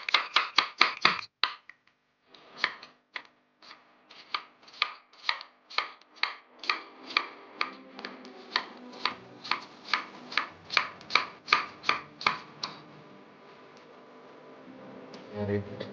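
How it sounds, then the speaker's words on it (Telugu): A knife chops cabbage into long strips on a board in a kitchen, making a fast run of crisp, evenly spaced thuds up close that slows and then stops, with a voice speaking nearby. "క్యాబేజ్ కూడా ఇలాగ పొడుగ్గా కట్ చేసుకోవాలి."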